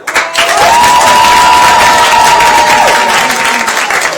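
Loud, sustained applause and cheering from a church family-event audience voting for a contestant, dense clapping throughout with a tone running under the crowd noise.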